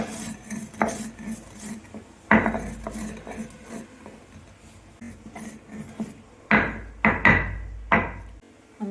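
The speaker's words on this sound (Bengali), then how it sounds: "ভাজা গোটা জিরেটা আমি শিলের মধ্যে গুঁড়িয়ে নিচ্ছি।" Roasted whole cumin seeds are crushed on a stone grinding slab with a stone, producing irregular rasping, rubbing scrapes punctuated by a few sharper knocks and clusters of strokes near the end, close up with no talking.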